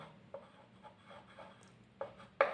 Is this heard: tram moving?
no